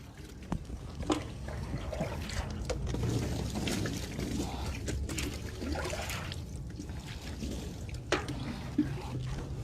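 Water poured over a body during an Islamic funeral washing, heard as faint intermittent splashes and trickles against a soft background hum, with occasional sharper drips.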